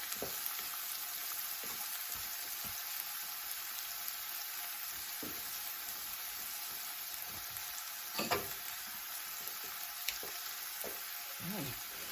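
Food browning in a frying pan, a quiet, steady hiss of frying with occasional light clicks and a brief louder stir near the end, heard without talking.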